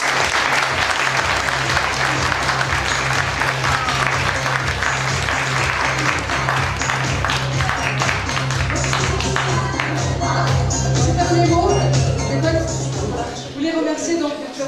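A show audience claps loudly and steadily throughout, dense continuous applause close by, with a voice briefly audible near the end.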